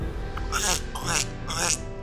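A voice makes three drawn-out, gurgling burp-like croaks in quick succession, close and raspy, imitating a creature's belch.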